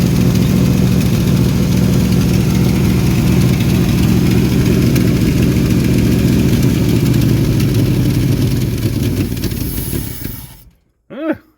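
A 1974 Ford bumpside truck engine runs rough on choke, a loud, uneven idle that rumbles steadily before abruptly cutting out near the end, followed by a brief faint sound.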